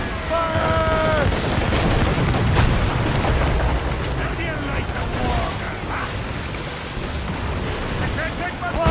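Ship cannons in the Assassin's Creed Rogue naval battle boom in heavy rolling volleys under continuous loud crashing and rumbling, with shouted voices over the battle noise.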